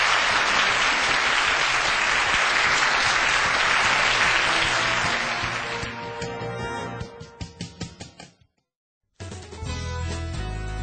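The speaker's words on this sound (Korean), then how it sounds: "다시 한번 수고해 주신 안드레아 타카미야 사장님께 힘찬 박수를 부탁드리겠습니다" Loud, dense audience applause at the close of a CEO lecture fills the first six seconds, then breaks into a few scattered claps and fades out, followed by a short silence before music begins.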